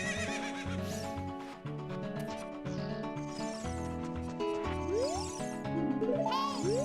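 A horse in the Ocarina of Time video game neighs loudly while galloping hoofbeats and bright game music play underneath, all without talk.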